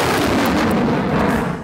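A British-made M777 howitzer fires in a single loud, heavy artillery blast with a broad rumbling roar that fades over about a second and a half.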